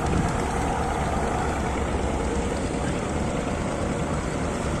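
A boat moving on a river, with a steady loud rush of engine, water and wind noise from close by that stays constant throughout.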